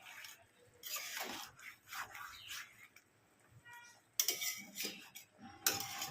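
Adobo being stirred in a pot with a utensil, giving soft intermittent scraping and clinking strokes, close and fairly quiet, in separate bursts with pauses between.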